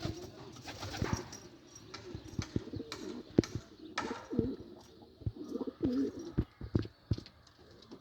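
Pigeons cooing close by at a loft, with repeated low throaty coos overlapping and scattered clicks and shuffling sounds throughout.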